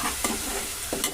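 A spoon scrapes through tomato puree curry that is sticking to the pan, giving two short scraping strokes over a soft background sizzle.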